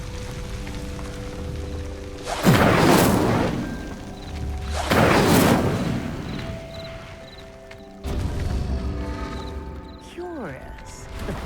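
In the Hogwarts Legacy video game, the Incendio fire spell strikes a pyre in two loud whooshing bursts of flame a few seconds apart, followed by a rumbling impact and a swooping magical tone over soft ambient music.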